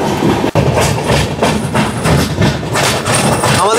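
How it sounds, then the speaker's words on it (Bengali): A train enters Balasore station with rhythmic clickety-clack wheel beats and a faint squeal near the end, loud and close, with no talk. "আমাদের ট্রেন এখন ঢুকছে বালাসোর স্টেশন।"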